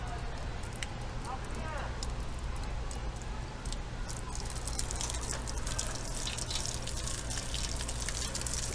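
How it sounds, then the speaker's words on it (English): Water gushes and splashes from the spigot of an Atwood RV water heater being flushed of debris, a steady rushing flow heard moderately close, with hissing spatters growing stronger toward the end. "We're going to turn on the spigot on the inside to the hot water heater and get some of this junk out of it."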